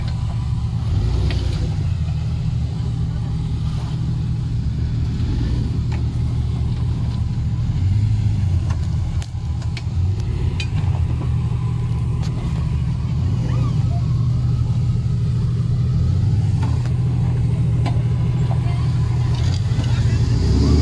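A 4x4 off-road vehicle climbs a rocky canyon trail near Rosarito, its engine rumbling and revving steadily up close while several people shout directions to the driver over the noise.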